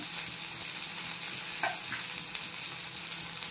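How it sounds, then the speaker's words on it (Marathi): Red and green chillies fry in a pan for a chicken tawa kebab, giving a steady, close sizzle with faint scraping from stirring and no talking. "याला परतून घ्यायचं छान"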